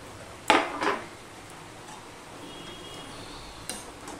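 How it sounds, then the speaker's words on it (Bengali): A metal utensil clatters in a pan while papaya curry is stirred, with two quick scraping knocks near the start, then a quiet stretch and one more light clink at the end. "এবার ভালো করে আমি দেখো মিশিয়ে নিচ্ছি।"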